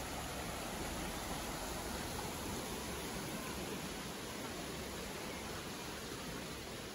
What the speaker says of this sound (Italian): A destra il fiume con le trote.